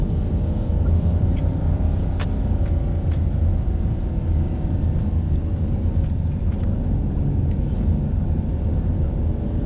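A 2024 Toyota Wigo engine strains uphill in first gear, a steady loud low drone with road rumble from inside the cabin and faint light ticks, no talk heard.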